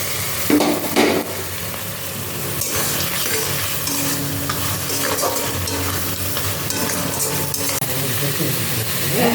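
Eggplant and spice masala being stir-fried together in a pan for a fish curry, with a steady loud sizzle and repeated scraping and clattering of a spatula against the pan throughout.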